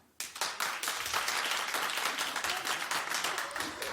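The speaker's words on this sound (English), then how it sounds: "clap if you think Casper will be okay." A studio audience applauding, a dense burst of clapping that starts abruptly and carries on steadily for a few seconds.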